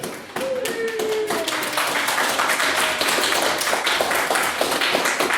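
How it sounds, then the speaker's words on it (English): A small debating-society audience gives sparse applause, a thin patter of hand claps from a few people that starts abruptly and carries on steadily for several seconds. "There are so few of us this evening that we've really got to make the effort for every round of applause"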